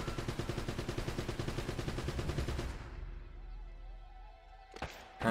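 Rapid automatic gunfire in the action video game Uncharted: a fast, even stream of shots for about two and a half seconds, then it breaks off into quieter, scattered thuds and a final burst.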